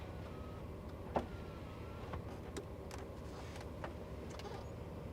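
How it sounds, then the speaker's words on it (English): Power windows of a 1983 GMC Vandura G2500 van run with a faint, steady motor hum under the idling engine, broken by a few soft clicks and thumps. "Power windows."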